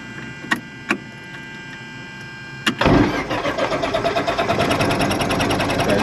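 A small airplane engine catches and settles into a steady running drone during a flight lesson, after a couple of sharp clicks, loud and close with a pulsing rhythm.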